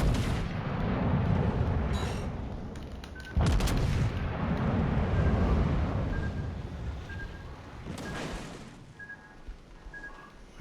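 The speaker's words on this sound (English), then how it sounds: "The guns are that bad in this ship?" Ship guns firing on a French destroyer in a naval combat video game: deep booming blasts, including a sharp loud shot, over a steady rumbling battle din with faint tonal beeps.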